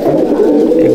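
A pigeon in a pigeon loft gives a low, throaty coo, close and fairly loud, sounding alone for about a second.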